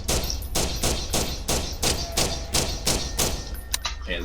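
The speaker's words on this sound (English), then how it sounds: "Using the pistol." A pistol fires in Garry's Mod, about a dozen sharp gunshots at an even rapid pace, each a loud crack, followed by a couple of quicker shots and a metallic clatter at the end.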